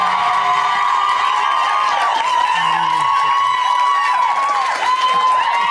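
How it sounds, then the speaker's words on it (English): A roaring studio crowd cheers, whoops and screams for the third-placed housemate at a live reality-show final, with a continuous high-pitched wall of shouting and clapping throughout. "a huge round of applause for our third placed housemate"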